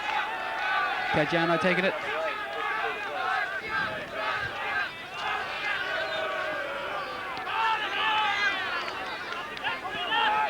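A football crowd at a 1980 Adelaide Croatia versus Para Hills match murmurs and jeers in displeasure at a throw-in decision, a steady distant roar beneath a commentator's voice.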